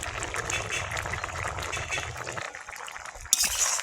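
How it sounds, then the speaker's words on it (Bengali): Running water splashing and trickling steadily while crab is washed slowly for a Bengali river crab curry with pumpkin greens, with light clinks near the end. "ধীরে ধীরে ধুয়ে দেবো"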